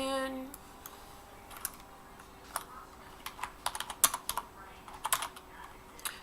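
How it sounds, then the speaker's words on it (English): Someone typing with one hand on a computer keyboard: quiet, irregular key clicks coming singly and in short bursts over a low room hiss, growing busier toward the end. "Typing with one hand is not easy."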